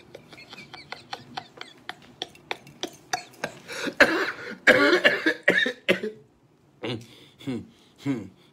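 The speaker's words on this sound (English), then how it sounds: "It's just a technical cough." A person coughs repeatedly: a quick string of short dry coughs, then heavier, louder rasping coughs and a few final bursts, close to the microphone.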